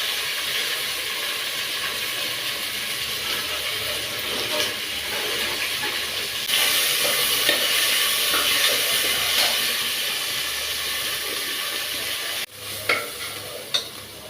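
Onions sautéing in a pan for a South Indian fish curry (meen kuzhambu) with curry leaves and coriander, a steady loud sizzle and hiss with occasional stirring scrapes and a brief dip near the end.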